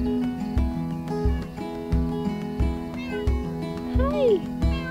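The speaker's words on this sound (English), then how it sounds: "I see a kitty." A cat meows several times outdoors near a garden, with the rising and falling cries standing out over steady background noise and someone speaking softly to it.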